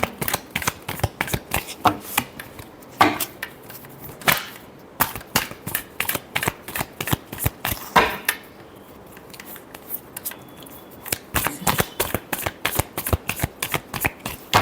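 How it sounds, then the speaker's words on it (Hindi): Tarot cards being shuffled by hand in dense bursts of crisp riffling and flicking, close and loud, with only brief pauses between the runs and nobody speaking. "Last shuffle."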